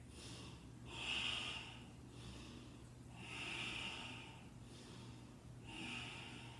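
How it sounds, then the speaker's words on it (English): Slow, deep yoga breaths held in a forward fold, three long audible airy exhales through the nose at an even unhurried pace, close and soft against quiet room tone. "take 5 breaths here."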